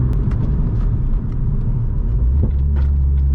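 Vauxhall Astra VXR engine downshifting on a night drive, a loud steady low rumble with a brief rev change partway through and a deeper drone settling in near the end.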